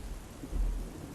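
Steady rain pours down alongside a deep, brief rumble of thunder, low and muffled, in a dark, stormy soundscape with no voices.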